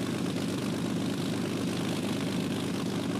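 A Supermarine Spitfire's propeller engine in Flight Simulator X drones steadily and loudly, a dense, unbroken roar with no voices over it.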